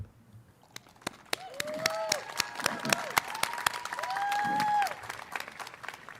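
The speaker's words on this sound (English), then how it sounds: "our first round of applause is going to be for us because we deserve it" A graduation crowd breaks into applause, sparse claps at first swelling into fuller clapping mixed with rising whoops and whistles of cheering, moderately loud and close.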